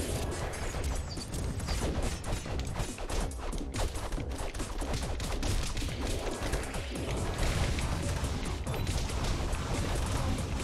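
A dense, continuous clatter of many arrows loosing and striking in Castle Crashers co-op gameplay, with rattling mechanical game effects filling the whole stretch without pause.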